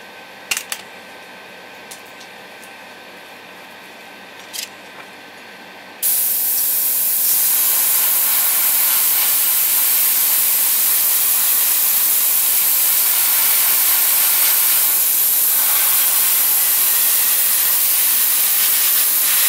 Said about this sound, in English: go ahead and spray paint this part.